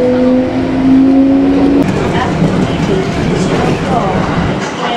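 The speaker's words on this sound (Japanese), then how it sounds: "前方からは天竜駅急行がやってきましたが、こちらの電車は4両編成。" A four-car Kintetsu Kashihara Line express train approaches with a loud, steady, broadband rumble. A brief tonal whine rises at the start before the noise settles into a continuous roar.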